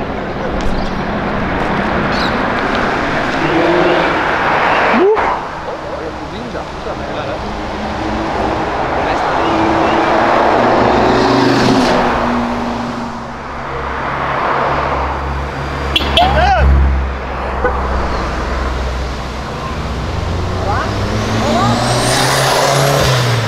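A Chevrolet Opala built by someone rumbles with a deep engine roar that swells and settles over a long stretch, with a few sharper revs, while people talk over it nearby.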